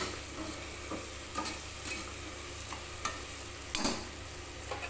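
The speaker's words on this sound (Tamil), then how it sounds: "புதினா கொஞ்சம் போட்டு நல்லா வதக்கிக்கலாம்" Mint leaves sauté in oil for a biryani, giving a faint, continuous sizzle broken now and then by soft stirring scrapes in the pan.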